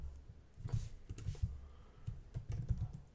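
Quiet, close keystrokes tap on a computer keyboard in uneven bursts, with short pauses between clusters of clicks.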